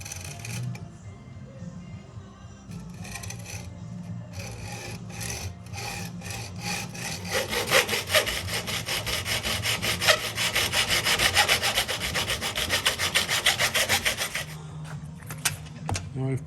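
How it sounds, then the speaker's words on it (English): A hacksaw cuts through chrome window trim in slow, controlled back-and-forth strokes, a fairly quiet, rhythmic rasping that grows steadier toward the end, with no talk. "I'm just using a hacksaw, slow and controlled,"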